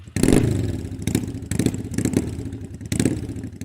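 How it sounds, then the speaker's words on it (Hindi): A motorcycle engine bursts into loud revs in repeated pulses, each rising sharply and then falling back to a rumbling idle. It sounds close, with no speech. "मोटरसाइकिल।"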